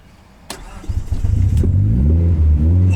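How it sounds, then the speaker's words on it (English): A turbocharged Suzuki Vitara engine cranks briefly, then catches and settles into a loud, steady, close idle with a slight rev, heard alone. "So let's get the engine started."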